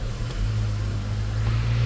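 An MG5 car engine running close by, a steady low idle hum with a slight rise partway through, loud and continuous with no talking.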